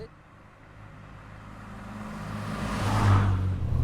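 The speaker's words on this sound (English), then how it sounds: "take the revs off, drop it into fourth, and cruise along" A 1964 MGB Roadster's engine grows steadily louder as it cruises in fourth gear, approaching and passing close by, its low drone rising to a peak near the end.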